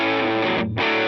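An electric guitar played through the overdriven drive tone of a multi-effect unit, set up for worship music, rings out as a short, loud, sustained distorted chord with a brief dip in the middle.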